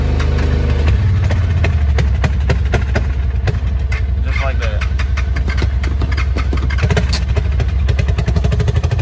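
A Honda TRX 300 6x6 ATV engine runs close and loud, a steady idling chug with irregular revving pulses throughout, while people talk over it.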